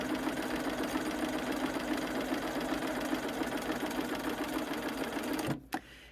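A sewing machine chain stitches half-square triangle fabric pieces, a steady close mechanical whir running continuously for over five seconds before stopping abruptly, followed by a brief click.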